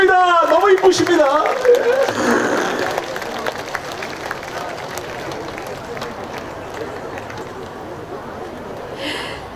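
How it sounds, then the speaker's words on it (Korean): An audience applauds a singer at an outdoor touring hope concert: a speaking voice opens, then a broad wash of clapping swells and slowly fades, steady and moderately loud from the crowd. "여러분들 박수 부탁드립니다."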